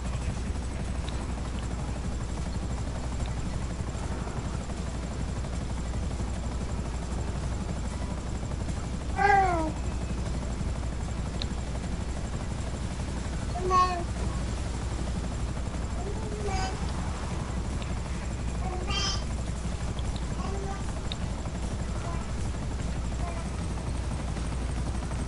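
Helicopter in GTA flying steadily through the whole stretch as a continuous low drone, with a few brief squeaky cries rising over it now and then.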